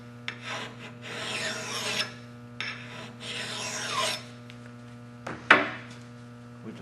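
A metal file rasping along the bit of a Council Tool axe: two long, even strokes, then a couple of short scrapes and a sharp clink, with a low steady hum underneath.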